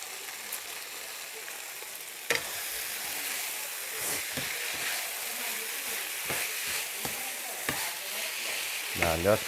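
Spicy eel stir-frying in a pan with kaffir lime leaves, a steady dense sizzle throughout, punctuated by sharp scrapes and knocks of stirring, no voices.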